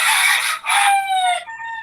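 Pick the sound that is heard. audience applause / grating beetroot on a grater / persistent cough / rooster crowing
rooster crowing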